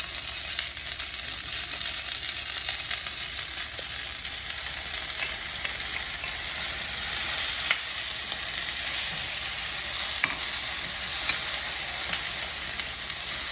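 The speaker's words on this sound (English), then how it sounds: "I really want it to simmer and develop in the sauce." Shakshuka tomato sauce bubbles in a pan on the stove, making a steady, even sizzle and soft popping that carries on without pause and without any voices.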